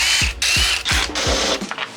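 A 1/2 inch ratchet turns bolts on a Subaru EJ253 engine, making four rapid, close clicking bursts in a regular rhythm with short pauses between strokes and no talk.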